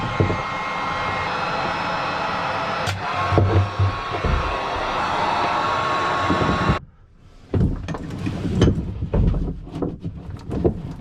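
Heat gun or blower roaring steadily against stuck boat hoses on their fittings during a sailboat refit, with a brief cutoff near the end before the hiss resumes alongside clunks and handling noises.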